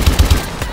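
Three quick gunshots from a weapon in Call of Duty: Advanced Warfare, loud and evenly spaced in the first half, then a duller tail of in-game noise.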